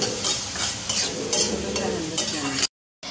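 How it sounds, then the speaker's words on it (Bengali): Chopped onions fry in hot soybean oil and are stirred, producing a loud, close sizzle with repeated scraping strokes. The sound cuts out briefly near the end. "পেঁয়াজটা ভালো করে নেড়ে চেড়ে দিব।"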